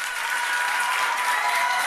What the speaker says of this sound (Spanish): ¡Aplauso muy grande, señores!